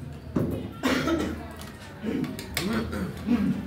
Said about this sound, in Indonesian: Batuk ya, maaf ya.